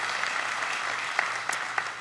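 Audience applause after a Father's Day announcement, a steady wash of clapping from a crowd filling the whole moment with a few sharper individual claps standing out near the end.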